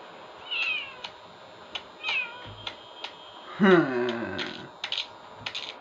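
A cat meows several times in a quiet indoor setting in the game GTA 5, short nasal cries among soft clicks and taps, ending in a longer louder drawn-out meow near the close, no talking.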